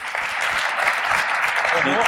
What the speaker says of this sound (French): Donc vous pouvez applaudir Étienne